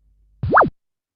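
A Scratch sound effect called zoop in a rock shooter game, a single short rising-then-falling electronic sweep lasting about a quarter second, loud and alone against silence.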